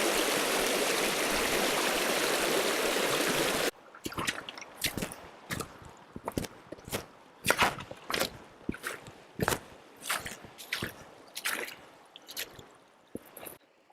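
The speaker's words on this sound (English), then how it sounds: "Just try and negotiate this river without getting too wet." A river being waded across, with a steady rush of flowing water for the first few seconds that then gives way to a run of irregular splashes and sloshing steps through the water, fairly close.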